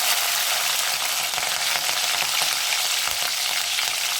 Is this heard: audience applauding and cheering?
no